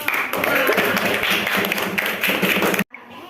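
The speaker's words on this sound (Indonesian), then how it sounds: "Ya, tepuk tangan untuk kelompok." Classroom applause for a student group, a burst of many hands clapping fairly close and lively for nearly three seconds before cutting off abruptly into near silence.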